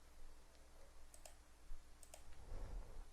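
A few faint computer mouse clicks, spaced apart, sound in a quiet room over low background hiss as selections are made in accounting software.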